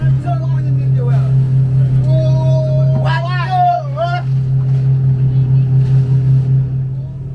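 A boat engine drones steadily throughout on a crossing to the Bijagós Islands, a constant low hum, while a voice speaks briefly over it partway through.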